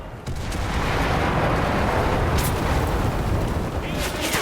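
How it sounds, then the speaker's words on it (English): A sniper rifle shot from the World War II shooter game Enlisted, a loud broadband blast that rumbles and sustains through the whole stretch with a sharp crack near the end, dense and close with no clear pause. "I think that was a sniper"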